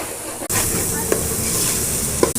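Onions and ginger-garlic paste fry for a fish curry, a loud steady sizzle starting abruptly, with a couple of brief stirring scrapes, close and continuous with no talk.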